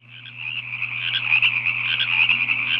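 Green tree frogs croak in a dense, continuous chorus from inside a toilet bowl, loud and close, with no voices over them.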